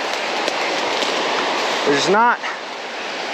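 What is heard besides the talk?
rushing water of a stream rapid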